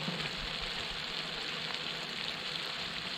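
An egg mixture fries in a wok over a campfire with a continuous soft, even sizzle, steady and fairly quiet, without other sounds over it.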